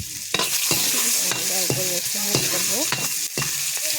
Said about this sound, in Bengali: এবার এটার মধ্যে অ্যাড করবো আমি রসুন